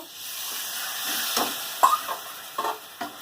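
Spice paste with tomato and ground-spice water being stirred and fried in a pan for a jackfruit curry, giving a steady soft sizzle broken by several scraping stirs, close and moderately loud, with no voices.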